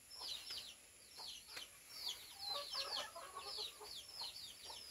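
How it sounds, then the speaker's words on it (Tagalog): Backyard chickens at a rural Filipino home cluck and squawk in a scattered series of short calls, fairly faint and at a moderate distance, with no talking. "So inyo haning mga manok tay."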